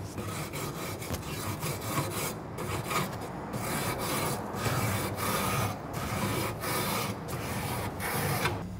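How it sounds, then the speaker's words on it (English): A brush scrubs the grates of a YS640 pellet grill with steady back-and-forth rasping strokes, close and continuous, with only brief pauses between passes. "I'm gonna start with the same brush on top. I'm not gonna go too hard."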